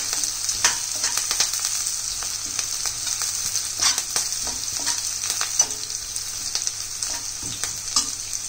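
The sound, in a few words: garlic frying in a pan until golden brown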